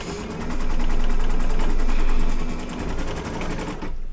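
An embroidery machine stitches fabric down in the hoop, a loud rapid mechanical chattering rattle at a steady fast rhythm that swells and then eases near the end, close up with no voices.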